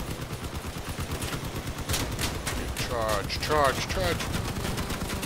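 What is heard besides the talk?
gunfire in the video game Crossout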